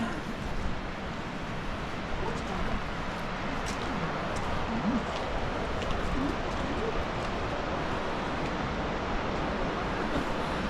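Water pours over a large weir on a misty river near Barnard Castle, making a continuous, even roar that holds steady throughout with no voices.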